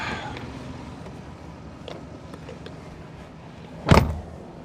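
A pickup truck fitted with a ProPride 3P hitch rolls slowly around a parking lot, a low steady cabin rumble with a few faint clicks and one sharp thump near the end.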